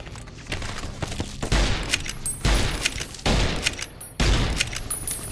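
Repeated gunfire in Fallout New Vegas as an enemy is shot: four heavy, booming shots spaced about a second apart, each with a long echoing tail. No one talks.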